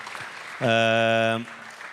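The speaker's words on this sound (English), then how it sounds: "please give him a round of applause" An audience at a Trieste festival applauds author Henry Sanderson. Steady clapping runs throughout, and a loud, sustained horn-like tone cuts through the middle for under a second.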